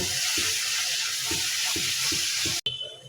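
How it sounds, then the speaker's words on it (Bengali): Cumin and coriander powder masala with salt sizzling and frying in a pan for a rohu fish and potato curry, a steady hiss with regular stirring scrapes, cut off abruptly near the end. "তো এখন আমি মশলাটাকে ভালোভাবে কষিয়ে নিই"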